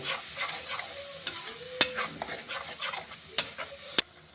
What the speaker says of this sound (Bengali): হলুদ গুঁড়ো লঙ্কার গুঁড়ো এটা আমি কষে নেব